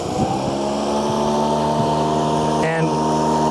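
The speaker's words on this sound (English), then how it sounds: "I'm sure you can hear me talking over the motor" A Toro 60-volt battery-powered 22-inch Recycler lawn mower runs with a steady, close electric motor hum, while someone talks over it throughout.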